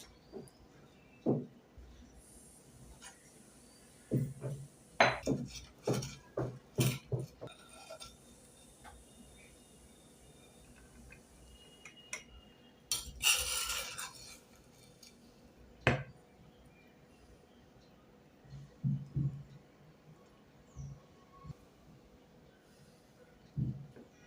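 Plates and cutlery clink in scattered bursts as charcoal-smoked mutton biryani cooked in a clay pot is served, sharp metallic taps and scrapes spread across the clip with quiet gaps between them.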